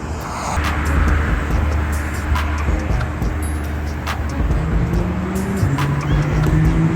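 Brand new Porsche 911 driving in a Florida hurricane, a steady engine drone with a rising tone toward the end, mixed with wind and rain noise and occasional thumps, heard from outside without talk.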